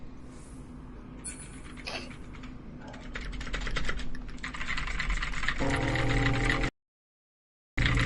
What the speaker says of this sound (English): This is what's nice about a keyboard.